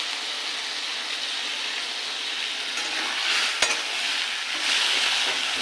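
Potatoes fry in a pan with a ground spice paste of salt, turmeric, chili, cumin and coriander powders, giving a continuous close sizzle with a brief sharp scrape midway.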